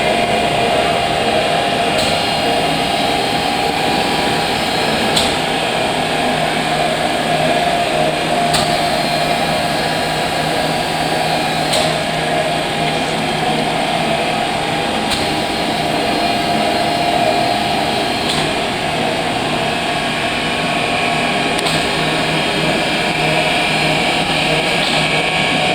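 A Seny D45 H machine with a centralized lubrication system runs steadily with its cover removed, giving a continuous loud mechanical hum and whine, with faint regular ticks repeating every few seconds throughout.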